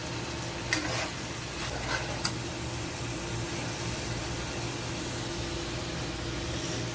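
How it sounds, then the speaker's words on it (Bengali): Beef liver frying in a pan gives a steady, close sizzle with a few scraping strokes as it is stirred. "আমরা একটু লেড়ে দেব যাতে কড়াইয়ের নিচে না লেগে যায়"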